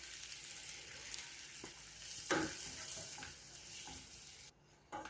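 Flour frying in melted butter for a pasta sauce, a steady soft sizzle that holds throughout with a few stirring scrapes, near and moderately quiet, with no talking.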